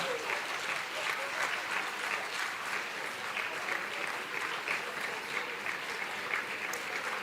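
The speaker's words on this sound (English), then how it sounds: "A huge round of applause for Team SKB." Sustained, even applause from a school heritage event audience honoring the overall winning team, a dense wash of many hands clapping at moderate distance with no talk over it.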